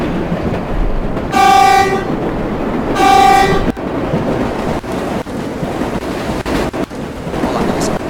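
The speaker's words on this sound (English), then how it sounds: "It's an electric-powered train." Electric-powered train in World of Subways 4 sounds two loud, sustained horn blasts in quick succession, then rolls on with a heavy rumble and sharp periodic clacks from the track.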